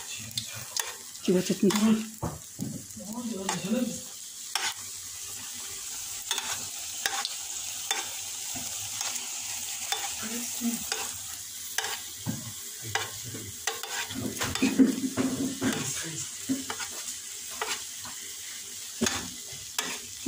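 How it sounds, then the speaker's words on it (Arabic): Bread dough frying and puffing in hot oil, a steady soft sizzle with stirring scrapes and occasional bubbling pops, close by, with a brief spoken word early on. "البيني ديالنا بعد ما كيتنفخو كندير عليهم الزيت بحال هكا باش يتنفخو مزيان"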